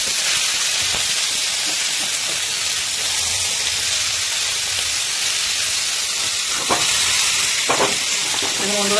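Fish pieces shallow-frying in a small amount of oil, a steady close sizzle and hiss with a few brief clatters as the pieces are turned over.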